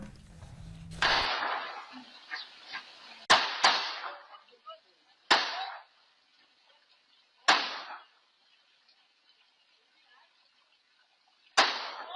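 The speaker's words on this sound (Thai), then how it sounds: "ลุงโดนยิงจริงเจ็ดนัดซ้อน" Several sharp gunshot cracks from a real shooting, seven shots in all, ring out at uneven intervals, loud and echoing, with a noisy commotion at the start and quiet gaps between later shots.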